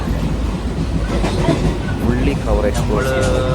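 A train bound for Ernakulam, Kerala, rumbles along the rails with steady clattering and a few high metallic squeals of the wheels, heard from inside, with voices mixed in.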